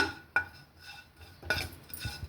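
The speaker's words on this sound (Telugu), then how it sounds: "అందుకని తర్వాత కొంచెం ఇలా వేయించుతున్నాను" A spatula scrapes and clinks against a pan while ingredients are dry-roasted, with a few sharp metallic knocks amid softer scraping, close by and with no voice.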